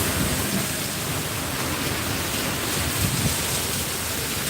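Heavy rain pours down in Da Nang, Vietnam, a dense, steady, loud roar of falling water filling the whole stretch with no pauses.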